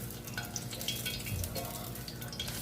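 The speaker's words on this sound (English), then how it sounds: "So you add more batter on the shrimp as it hits the pot" Batter-coated shrimp tempura fries in a pot of oil with a steady, fairly quiet sizzle and bubbling, and a few faint clinks and stirring sounds on top.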